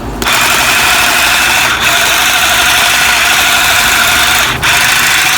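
A Black+Decker cordless hand shrub trimmer runs loud and close with a constant whirring buzz, cutting out briefly twice as the safety button is released before starting right back up.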